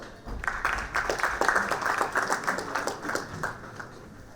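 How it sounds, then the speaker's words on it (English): Audience applause greets a director from Ambetronics Engineers stepping on stage at a corporate presentation, steady clapping from a room of people holding for several seconds before fading slightly. "Please give him a huge round of applause"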